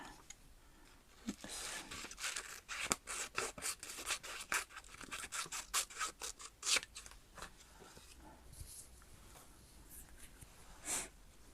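Scissors cut out a paper picture for a gluebook, a series of quiet close snips and rustles coming in quick uneven runs, then trailing off into sparse soft paper handling with no talk.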